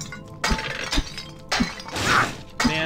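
Pots and urns shattering in the hack-and-slash game Diablo 2: Lord of Destruction, several sharp breaking crashes about half a second apart, followed by a longer swelling smash, loud against steady game ambience.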